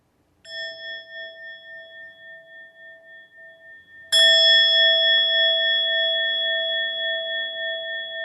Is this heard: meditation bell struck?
yes